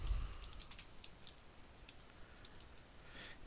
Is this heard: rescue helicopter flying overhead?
no